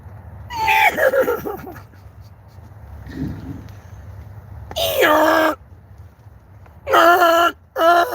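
A donkey brays in a few loud, harsh, wavering bursts, each about a second long, separated by short quiet gaps, with low background rumble between them.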